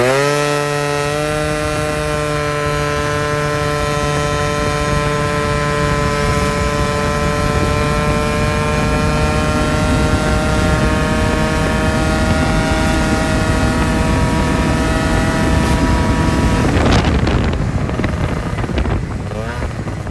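A Yamaha Jog scooter fitted with 6-gram variator rollers pulls hard on a drag run, its small engine holding a loud, steady buzzing drone for about twenty seconds before easing off near the end.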